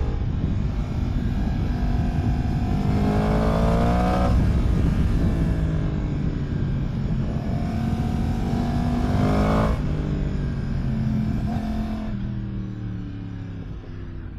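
A vehicle grinds along a rough road in first or second gear, its engine droning loudly and steadily with two rising revs, fading slightly at the end.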